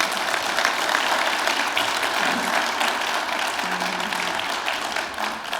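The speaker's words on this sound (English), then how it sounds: "please join me in giving them a round of applause" An audience at an automotive industry panel event applauds the panelists, a dense, steady round of clapping that carries on for several seconds before tapering off slightly.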